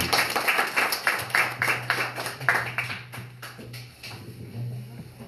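A small conference audience claps for a few seconds, the applause thinning out toward the end with a low hum underneath.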